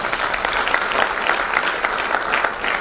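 An audience claps steadily at an agricultural regional conference in Bhopal, a dense, continuous round of applause from a seated crowd filling the hall with no break.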